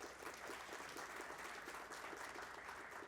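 Audience applause at a hydrometeorological monitoring conference, a dense, steady wash of many hands clapping that continues evenly for the whole stretch with no voices on top.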